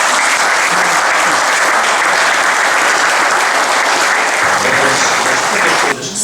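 A book launch audience breaks into loud, sustained applause that fills the room evenly for several seconds before cutting off abruptly at the end.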